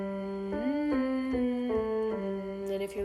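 A single voice hums with closed lips through the nose as a vocal warm-up, gliding through a short sequence of steady pitched notes, close and clear with no talk.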